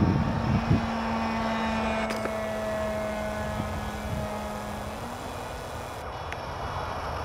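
A radio-controlled model airplane flies overhead, its propeller engine a steady, moderately loud drone with a sustained tone throughout, alone with no talk.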